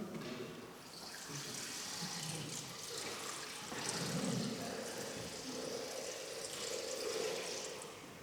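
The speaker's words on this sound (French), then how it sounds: "C'est l'eau." Water pours and splashes steadily into a basin during a church service, faint and continuous over several seconds, with a quiet murmur of room sound.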